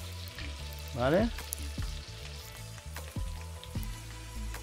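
Carrot sizzles and fries in a pan while prawn salad with garlic is being made, a close steady crackle with scattered pops and stirring clatter, and a voice speaks briefly over it.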